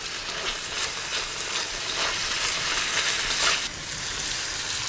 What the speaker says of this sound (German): das Ganze tun wir jetzt so 3-4 Minuten kräftig anbraten